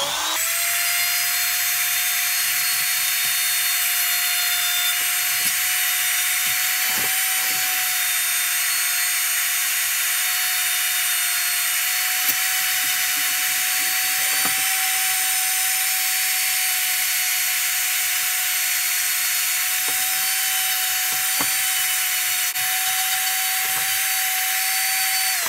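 A power tool with fine 100-grit abrasive grinds a welded-chamber GX390 kart racing cylinder head, giving a steady high-pitched whine with brief clicks and bumps as it works, loud and continuous for the whole stretch, no speech.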